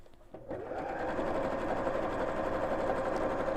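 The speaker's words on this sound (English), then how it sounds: "So I'm going to go back over and just sew that little bit there" A sewing machine runs over a French seam, starting after a brief quiet moment, then settling into a steady, continuous whir of rapid stitching that stays loud and close with no talking.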